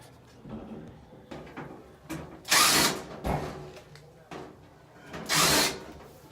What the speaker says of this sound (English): Take these two screws out.